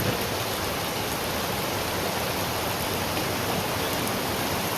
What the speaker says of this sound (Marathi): बारिश आ रही है रे. क्या जोरदार गिर रही है